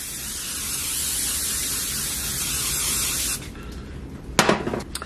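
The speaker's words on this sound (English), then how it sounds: "I spray it with some oil" A steady hiss of cooking oil spray onto a sheet pan lasting about three seconds, close and loud, followed by a few light metallic taps.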